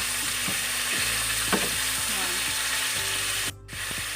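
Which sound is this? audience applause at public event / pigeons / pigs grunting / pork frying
pork frying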